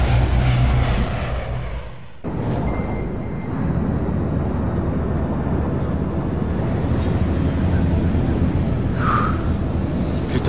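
Airplane cabin engine drone in Splinter Cell Blacklist, a steady broadband roar that drops out briefly near the start, then resumes as a constant hum with faint clinks on top.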